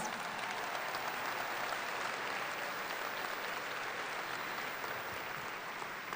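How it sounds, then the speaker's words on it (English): At a high school graduation ceremony, the crowd applauds the standing ACT scholars with a continuous, even wash of clapping throughout. "Let's give them an applause."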